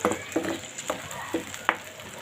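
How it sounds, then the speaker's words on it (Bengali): Water goes into a hot frying pan of sautéing food, giving a steady sizzle with scattered pops and crackles, close and fairly quiet, with no talking. "এখন দিয়ে দেব পরিমাণ মতো জল"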